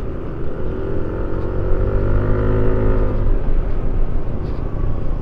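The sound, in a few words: motorcycle engine accelerating on a ride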